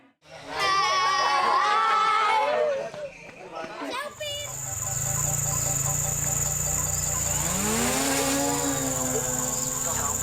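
Drone flying over the jungle during a search for earless monitor lizards: after someone narrates, a steady high whine of rotors sets in and holds, with a rising pitch sweep midway and insects in the background.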